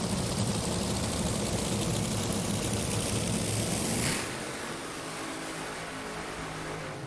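Top Fuel dragsters fired up at the line for an NHRA semifinal pair, a loud broadband engine roar that cuts off sharply partway through and leaves a quieter idling rumble.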